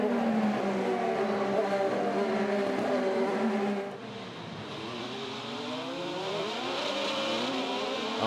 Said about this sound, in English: listen to the wheel spin of his cars coming off the corner